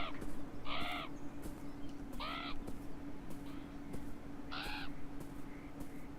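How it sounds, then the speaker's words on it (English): Three harsh crow caws in the video game Beyond Eyes, spaced apart with a gap of a couple of seconds between calls, sounding fairly close over a steady low ambient hum. "There's also a crow over there."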